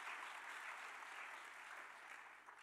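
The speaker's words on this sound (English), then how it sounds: "please applaud them as well" An audience at a keynote address in a packed hall claps steadily, a dense, even wash of applause that fades slightly toward the end.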